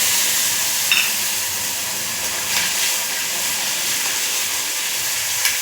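Masala paste of coconut, onion, garlic, coriander-cumin powder and fresh coriander fries in hot oil under steady stirring, a loud continuous close sizzle and hiss with faint scrapes and no voices.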